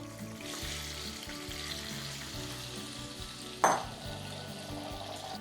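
Broccoli rabe tipped into a frying pan of hot oil, a steady crackling sizzle with one sharp louder burst partway through as the greens hit the pan, then continued frying.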